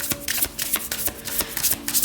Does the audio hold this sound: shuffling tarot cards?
yes